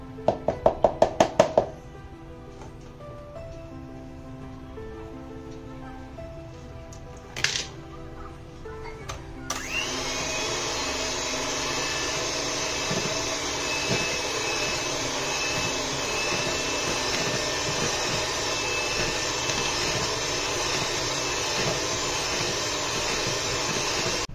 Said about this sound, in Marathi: आणि हे पुन्हा एकदा आपण फेटून घेऊयात.